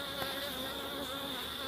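Honey bees buzzing around comb reattached to the top bar of a Langstroth hive, a faint steady droning hum close by with no voices.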